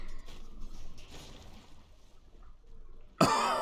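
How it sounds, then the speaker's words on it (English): A single sharp cough bursts out near the end after a few seconds of quiet, muffled background noise, close and loud against the otherwise low room sound. "Cough cough."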